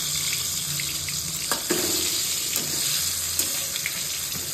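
Round slices of eggplant fry in hot oil as beguni, a steady sizzle and crackle with a few clinks and stirring taps, close by and without talking.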